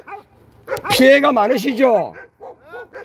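Dogs at a rural home yip and whimper in short, high, wavering cries, close and fairly loud, mixed with a person talking nearby.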